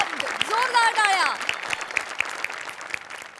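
An audience claps loudly and steadily after a stage performance, a dense burst of applause that continues throughout while a voice speaks over the start.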